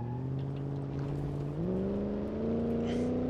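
A failing V8 engine in a Dodge Coronet 383 in the BeamNG.drive driving game drones steadily and close, its pitch climbing in two small steps with no clean rev response.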